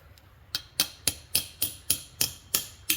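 Metal-on-metal hammer strikes drive a punch against the axle bearing races of a 1979 Ford F-350 Supercab, about eight sharp, ringing blows at a steady rhythm, close and alone.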